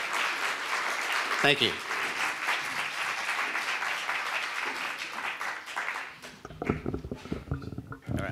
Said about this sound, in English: Can we give them a round of applause to both candidates?